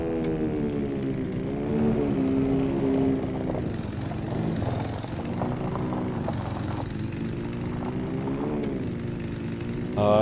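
A Husqvarna FE501 dirt bike engine in a logging roleplay game hums at a steady mid-pitched drone, rising and falling slightly in revs throughout.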